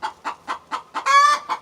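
Backyard chickens cluck in a quick run of short, close, fairly loud bursts, ending in a longer, drawn-out squawk from one hen.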